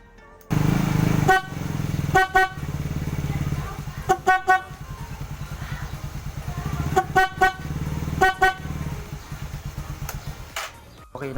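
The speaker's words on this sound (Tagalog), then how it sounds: "itest natin kung anong tunog ng Bosch horn" A Bosch compact car horn, installed without a relay, honks in a series of short and longer blasts, loud and close, separated by pauses, over a steady low hum.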